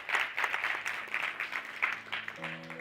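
Audience at a women-in-energy event claps for a speaker coming up, a soft, uneven patter of applause in a room, heard from some distance, with a low tone entering near the end.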